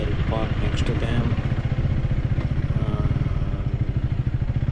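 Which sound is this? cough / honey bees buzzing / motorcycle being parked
motorcycle being parked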